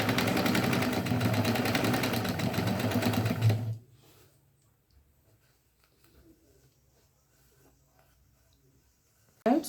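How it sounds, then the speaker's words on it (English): A sewing machine stitching down the side hem of a fabric rod pocket curtain, running in a steady, loud mechanical whir for several seconds and then stopping, followed by quiet handling and a faint knock at the end. "now I am going to be stitching the side. So I'm going to stitch, and as I go along, I remove the pins."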